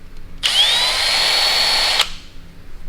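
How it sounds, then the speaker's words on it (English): A Milwaukee power drill, smoking from overwork, whirs up with a high whine about half a second in and holds one steady loud tone for about a second and a half before cutting off abruptly. "The drill is smoking."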